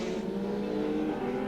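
Touring race cars at Mallala in the 1990 ATCC scream past with a sustained, buzzing high-revving engine note that stays loud and steady, heard from trackside with no voices over it.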